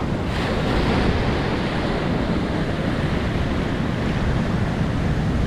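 Ocean waves break against a rocky shore along the Eastern Cape coast of South Africa, a loud, constant roar of surf with wind buffeting the microphone throughout.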